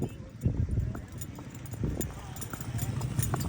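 Mares' hooves clip-clop steadily on a road as they travel to a fair, a continuous rhythmic clatter of hoof strikes with voices murmuring in the background.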